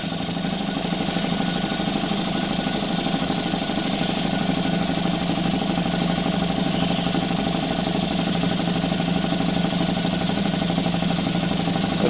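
A Stuart 4 model steam engine runs on live steam above its recommended speed, exhausting into an old propane tank used as a chuff pot, giving a steady, loud, continuous mechanical chuffing and hiss with no pauses or talk.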